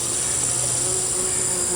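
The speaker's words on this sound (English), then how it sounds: "You hear those bees? They love coming here in the morning and just dipping themselves into the beautiful flowers." Bees buzz steadily around squash flowers in a morning garden, a continuous close insect drone with a high whine that holds evenly throughout, no voices.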